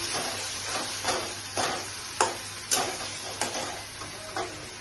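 Cashew paste and coconut paste stirred in a pan for shahi paneer, the spatula scraping in a steady rhythm of soft strokes with a faint sizzle underneath; no talking.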